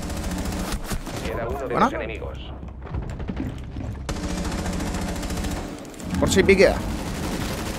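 Gunshots from a weapon in the tactical shooter Rainbow Six Siege, several sharp reports in bursts against busy game noise, with someone talking over the fire.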